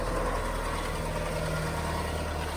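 A car engine idles with a continuous low, even rumble and faint mechanical ticking, steady and fairly quiet for the whole stretch, with no talking.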